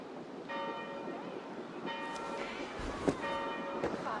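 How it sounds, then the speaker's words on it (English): Church bells ring at an abbey in the video game Assassin's Creed Valhalla, struck at a slow, even pace with moderately faint tolls over a constant wash of ambient noise. "Do you not hear the bells?"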